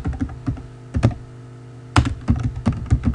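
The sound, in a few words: typing a name on a computer keyboard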